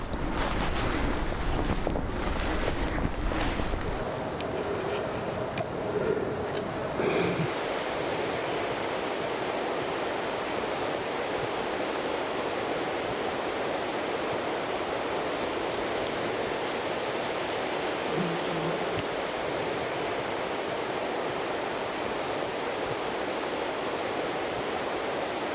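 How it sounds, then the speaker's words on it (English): A mountain river in the Caucasus rushes in a steady broadband wash, continuous and fairly loud throughout, with wind buffeting the microphone in the first few seconds and no talk. "The sound of the river, the mountains in front of us."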